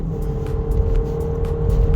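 A 2017 Ford Fusion SE with a 1.5-litre EcoBoost engine and automatic gearbox accelerates from a standstill uphill, its engine droning steadily at close range with no talk over it.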